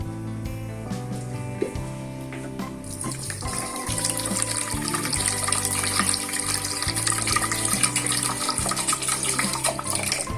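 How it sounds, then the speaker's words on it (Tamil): Water from a cup is poured into a pan of sugar to make syrup for agra petha, a steady splashing, gushing stream that builds and carries on over a low hum. "இதுக்கு வந்து 1 கப் தண்ணி ஊற்றிக்கலாம்."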